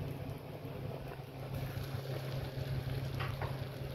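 Small fish cutlets coated in cornflour batter and breadcrumbs deep-fry in hot oil, a continuous dense bubbling sizzle heard up close with no talk.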